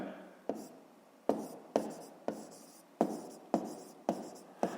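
A pen writes in a notebook for a fifth-grade math exercise, close and quiet, with a series of about eight short scratching strokes at an uneven, regular-ish pace.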